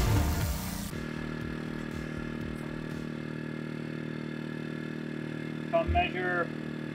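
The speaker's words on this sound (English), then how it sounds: "For the rest of the video, you will hear the humming sound in the background. That's our diesel generator." A diesel generator on an off-grid property hums steadily and fairly quietly in the background after a brief louder burst of mechanical clatter, with a short faint sound near the end.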